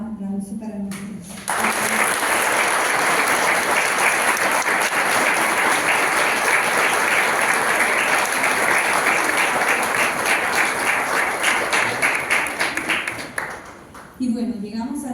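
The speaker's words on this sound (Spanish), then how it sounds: "Pedimos por favor un aplauso para nosotros." An audience bursts into sustained applause at a World Philosophy Day panel on Stoic philosophy, dense clapping lasting around twelve seconds after a brief spoken lead-in, with voices returning as the clapping fades.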